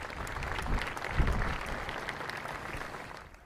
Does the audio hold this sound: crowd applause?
yes